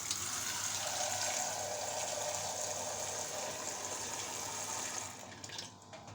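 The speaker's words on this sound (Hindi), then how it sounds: "तो मैं पानी डालूँ इसके अंदर।" Water pours steadily into a cooking pot in a home kitchen, a continuous rushing splash that holds for about five seconds and then tapers off.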